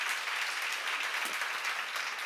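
A church congregation applauding during a sermon, a dense, steady wash of clapping from many hands that continues evenly throughout.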